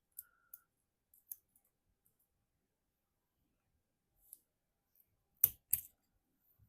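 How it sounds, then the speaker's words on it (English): Small metal clicks and a couple of sharp snaps as a screwdriver pries a tiny U-ring off the nozzle of a Cyma CGS M4-style airsoft rifle, scattered light ticks followed by two louder close clacks near the end. "use a screwdriver to do that"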